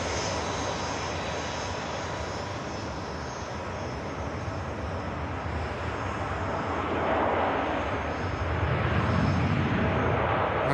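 A Boeing 787 Dreamliner at an airport rumbles with a continuous engine roar that swells louder toward the end, heard alone without speech.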